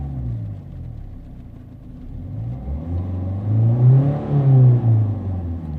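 A Volvo S40 with a 1.6 diesel engine, in limp mode with low fuel pressure, revs at full throttle, a low rumble climbing to a louder, higher drone before easing slightly, close and with no voices.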